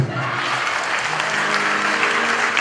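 A church congregation breaks into loud, sustained applause and cheering, dense and close throughout with no pauses.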